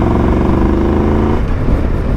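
A Triumph Tiger 1200 Rally Explorer motorcycle engine pulling hard at full throttle in fifth gear from low speed, a loud steady rising drone that then breaks into rougher wind and road noise.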